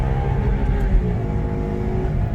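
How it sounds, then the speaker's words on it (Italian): A Maserati 4200 Cambiocorsa engine held high past 5000 rpm, a loud, continuous roaring drone with a deep rumble and strong harmonic whine, close and unbroken, with no speech. "Urla come una bestia."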